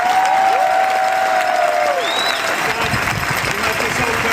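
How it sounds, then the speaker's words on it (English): Applause and cheering from a large campaign rally crowd in Norco, California, a steady wash of clapping that fills the whole moment, with a voice over a loudspeaker riding on top. "Let's give Larry a round of applause."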